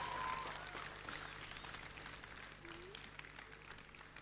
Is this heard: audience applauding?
yes